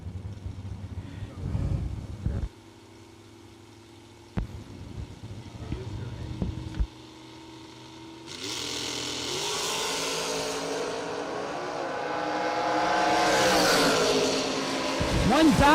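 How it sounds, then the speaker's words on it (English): An Opel GT drag racer running nitrous at a drag strip: engine noise with a commentator's voice over the first seconds, then a loud, sustained engine roar that climbs and holds to the end. "My Opel GT racer up in the left lane with the nitrous"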